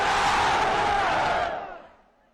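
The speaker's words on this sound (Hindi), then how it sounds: "जाना है तो मेरी आवाज के साथ आवाज मिला के बोलो, नारे तकबीर" A large political rally crowd roars a chant response in unison, a loud sustained collective shout that swells and then fades away.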